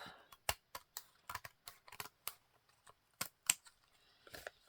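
Scissors cut lace masterboard paper close up in a series of sharp, separate snips, some quick pairs and some single cuts, spaced by quiet pauses.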